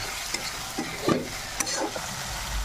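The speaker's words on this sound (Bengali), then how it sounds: "ভালো করে কষে নেবো মশলার সাথে, ভাজা ভাজা হয়ে যাবে চিংড়ি মাছটা।" Prawns sizzling with spices in a pan, a steady close fry hiss with a few soft stirring scrapes and knocks of a spoon, no voices.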